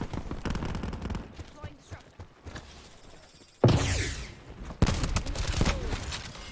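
Bursts of gunfire in Black Ops 4, several sharp volleys including rapid machine-gun fire at close range, separated by quieter gaps, with a voice talking in between.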